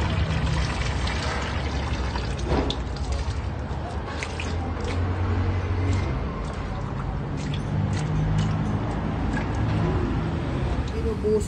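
Brake fluid pours in a steady, full stream out of a drained car brake booster, a continuous liquid splashing and trickling that stays loud throughout, with faint voices in the background.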